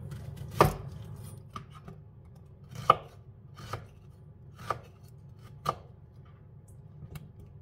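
A knife slices food on a cutting board in sparse, separate chops, each a sharp close knock, with quiet gaps between strokes.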